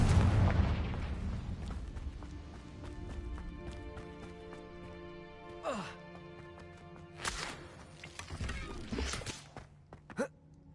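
Several sharp blasts from the Confringo spell in the game Hogwarts Legacy burst out at irregular intervals over a steady, tonal game background, each a short broadband crack of moderate loudness.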